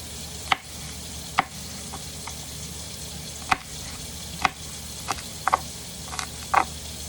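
Sharp knife taps on a cutting board while chopping onions and bell peppers at an uneven pace, fairly quiet against a low hiss of background noise.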